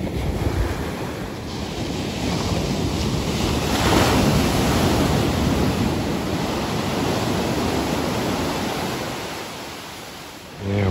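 Ocean surf breaks and washes steadily onto a beach where boats are launched through the surf line, a loud, continuous roar of churning water and wind with no voices.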